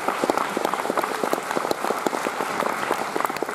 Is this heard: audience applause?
yes